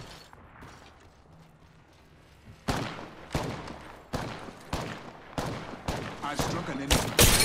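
Gunfire in the battle royale shooter Apex Legends: after a quiet stretch with faint mechanical clicks, a series of sharp, loud shots erupts in irregular bursts, growing denser toward the end.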